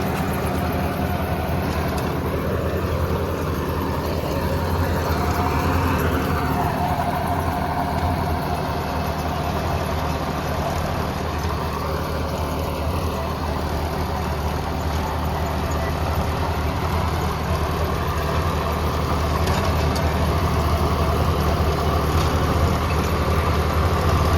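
A Preet 955 three-cylinder tractor engine runs steadily in low gear, a continuous low rumbling drone heard close and loud throughout without pause.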